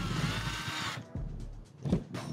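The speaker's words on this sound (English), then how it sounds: "You're then going to want to grab your drill and drill a hole through there" A power drill boring a hole through a pipe for a homemade crevice vacuum attachment, whining steadily for about a second, pausing, then running in two more shorter bursts close by.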